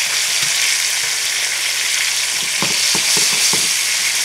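Chicken frying in a pan, a loud, steady hiss of sizzling oil with a few soft clinks and stirring bumps partway through, no voices.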